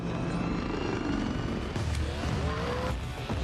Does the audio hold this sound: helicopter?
yes